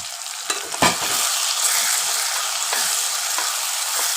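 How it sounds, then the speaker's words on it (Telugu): Ginger and turmeric stir-frying in a pan for a Telugu brinjal and dried bombay-duck curry, a steady close sizzle broken by a few sharp scraping stirs, with no talking. "ఇట్లా ఫ్రై చేసుకుంటే చాలా బాగుంటుంది"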